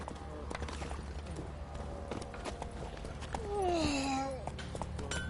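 Hooves of Roach, a horse in a PS4 video game, clip-clop in a steady galloping rhythm under game sounds, with a brief rising whinny-like tone near the end and some faint speech.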